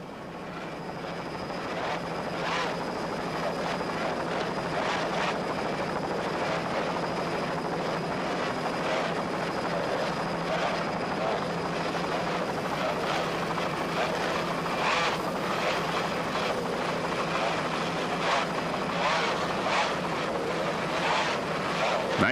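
A helicopter hovers over a 1995 offshore powerboat race at Harbor Town, its steady rotor and turbine roar filling the scene at constant loudness, with boat engines blended underneath.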